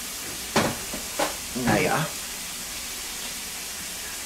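Lidl ostrich steaks in marinade sear in a hot pan, giving a steady soft sizzle and crackle beneath a brief spoken word, with faint bubbling bursts rising over the constant hiss.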